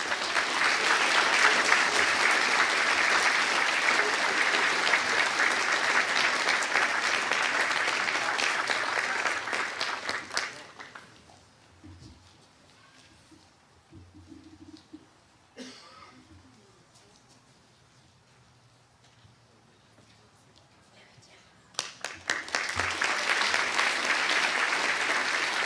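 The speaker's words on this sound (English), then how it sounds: "You get in such a rhythm with that coordinated clapping, it's tough to kind of wait." Prize day audience applause for award winners, a dense crowd clapping loudly for about ten seconds, dropping to a quiet room with faint shuffling, then another loud burst of clapping starting abruptly near the end.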